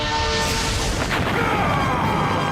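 A laser weapon blast from a Power Rangers Lightspeed Rescue episode dubbed in Hindi erupts as a loud, dense booming whoosh with a descending whine, lasting a couple of seconds.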